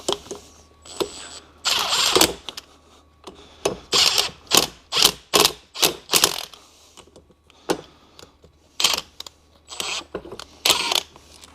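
On a Mercedes E55 AMG differential rebuild, a power tool snugs down the bolts in a string of short, sharp bursts, each quick zip loud and close with brief pauses between them.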